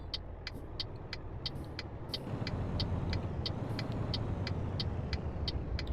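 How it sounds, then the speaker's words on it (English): A heavy truck rumbles low and steady under engine braking while rapid, regular ticking clicks repeat above it, the engine growl growing slightly louder midway. "you were hearing was basically the braking from the engine"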